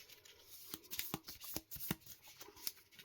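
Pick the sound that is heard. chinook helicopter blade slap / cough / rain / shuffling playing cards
shuffling playing cards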